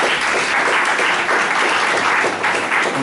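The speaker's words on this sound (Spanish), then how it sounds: "Un aplauso para..." Audience at a presentation giving loud, sustained applause, dense and even clapping throughout with no voices on top.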